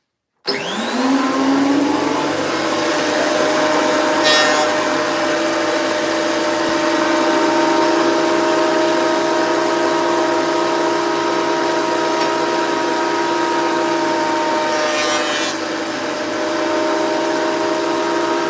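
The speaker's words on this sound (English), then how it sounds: "I'll get the planer fired up now, and we can start planing this timber." A power planer runs loud and close while planing timber, a steady high whine and roar held throughout after a sudden start, with a couple of brief bursts as the blade cuts.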